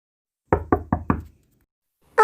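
Four quick, close, dry knocks on a door in the Toca Boca video game, followed by a short pause and the start of another knock.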